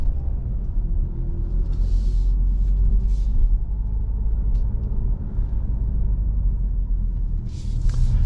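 Hyundai Tucson 2023 plug-in hybrid with 265 horsepower pulling away from a garage at night, heard from inside as a steady low rumble and road hum with a few faint clicks, no talking.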